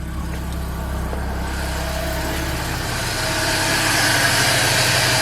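A BMW E46 engine settles into a steady idle just after starting, a continuous low hum and rumble up close that grows slightly louder and fuller partway through, with no talking over it.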